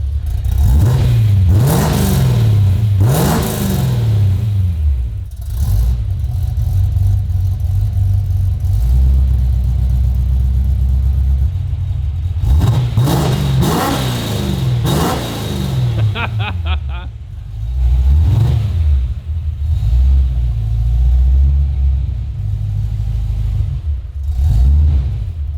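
A Holden HQ engine revs hard through a new custom exhaust inside a shed, a deep bassy rumble rising and falling in repeated loud blips with a steady idle between them.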